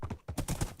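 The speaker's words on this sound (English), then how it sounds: "Now that I've got this new horse that's extremely fast, it's very fun to run around here." Fast horse hooves in the Minecraft video game clip-clop in a quick, steady rhythm, several close, crisp strikes in under a second with no talking.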